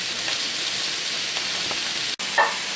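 Sausage and peppers sizzle steadily in a cast iron pan, a soft continuous frying hiss with a brief clatter near the end.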